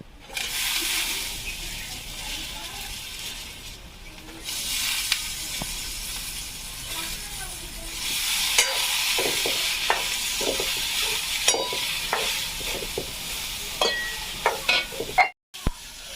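Brinjal (eggplant) with a spoonful of salt goes into a pan for a village-style sole vange curry, followed by steady sizzling and repeated spoon stirring and scraping, loud and close, with no talking.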